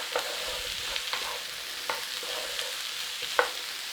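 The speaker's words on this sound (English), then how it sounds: "Let's have that little stir fry together." Bratwurst and golden potatoes stir-fry with caraway seeds in a pan, a soft, even sizzle underlying the scene while a utensil taps and scrapes the pan in scattered light clicks, one sharper knock near the end.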